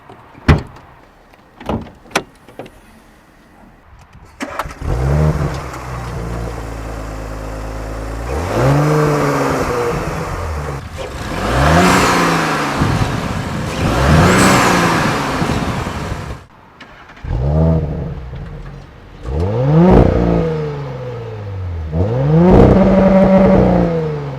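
After a few clicks, the twin-scroll-turbo V6 engine of a 2023 Audi S5 Sportback starts and revs repeatedly, rising and falling in loud, close bursts with short pauses between.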